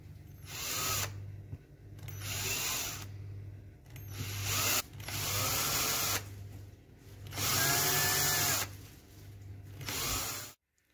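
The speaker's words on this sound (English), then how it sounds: "I'll go in with a 2mm drill bit and then a 3mm drill bit, just very lightly, just to concave it a little bit" A power drill with 2mm and 3mm bits bores lightly into an RC tire, in five or six bursts of high whirring separated by short pauses, close and fairly loud, the last burst cutting off abruptly.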